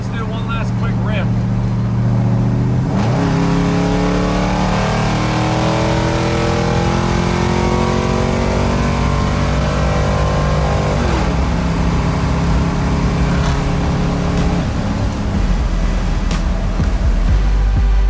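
A truck engine revs repeatedly in rising and falling sweeps, loud and close, before the truck is cut apart for a Crown Victoria swap.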